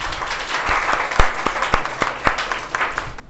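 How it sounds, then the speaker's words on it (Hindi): Students applauding in a coaching classroom during a physics quiz, a burst of brisk, loud clapping with sharp individual claps standing out, close by. "ताली बजा दो यार।"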